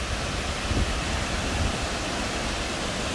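Misol-Ha waterfall in Chiapas roars as a steady, dense wash of falling water heard close by, broadband and unbroken, with no voices over it.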